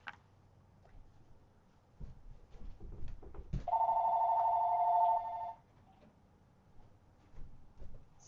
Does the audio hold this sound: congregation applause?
no